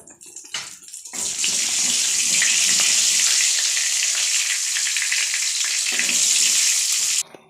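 Cumin seeds dropped into plenty of hot oil in a wok flare into a loud, rushing sizzle that holds steady for several seconds before cutting off.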